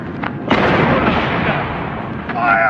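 A loud cannon blast bursts out near the start and rumbles on as a broad, sustained roar, with a fainter second boom near the end.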